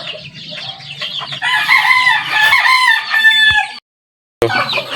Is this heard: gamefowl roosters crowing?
yes